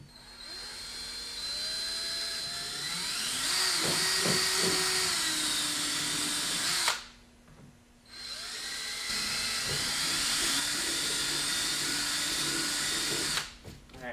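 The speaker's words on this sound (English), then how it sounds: "then you just need to go back and drill all the way through" A power drill bores through the cockpit rim of a kayak while a rudder is being fitted. It whines loudly and steadily in two long bursts, with a short pause between them and no talking.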